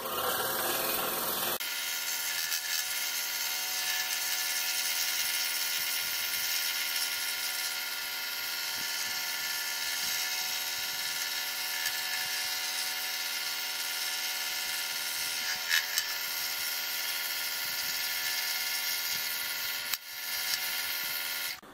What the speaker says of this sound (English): cutting through a rather thick wood at 3/4 inch poplar